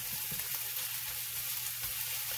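Corned beef hash browning in a pan hisses in a steady, even sizzle with soft crackle throughout, moderately loud and close, without talk.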